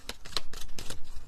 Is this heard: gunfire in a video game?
no